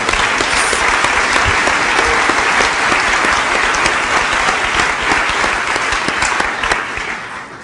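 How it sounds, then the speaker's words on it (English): A large audience claps for a man's 80th birthday at a green energy talk, loud dense applause held steady before fading slightly at the end. "Let's give him a big applause for."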